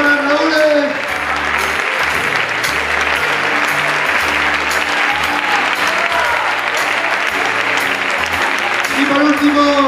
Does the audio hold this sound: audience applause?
yes